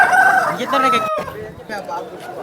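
A rooster crows loudly and close at a Sunday chicken market in Vijayawada, its drawn-out call followed by clucking and market chatter in the background.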